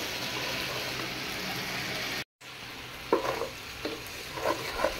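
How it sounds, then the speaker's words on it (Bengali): Rice being slowly fried and stirred over low heat in a pot for chicken biryani, with tomatoes added: a steady soft sizzle, a brief silent gap, then several clearer scraping stir strokes near the end. "চুলার আঁচ কমায়া আমি আস্তে আস্তে চালটাকে ভেজে নিতেছি"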